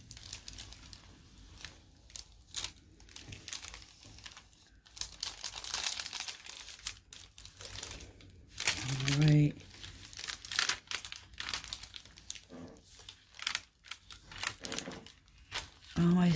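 Paper crinkling and rustling while ironing a Perler bead pegboard, irregular close crackles and scrunches coming in bursts, with a person talking over parts of it.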